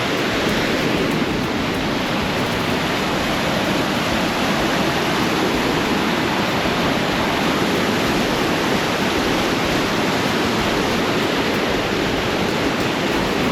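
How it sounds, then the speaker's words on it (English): Fast creek water rushes down a slope in a steady, dense, broadband roar, loud and continuous, with no voices over it. "This obstacle entails fast rushing water down the slope."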